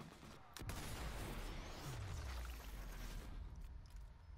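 A sniper rifle shot in the video game Sniper Elite 4, a loud sustained burst of gunfire and rumbling impact noise filling the clip, with a low booming tail and a sweeping downward tone.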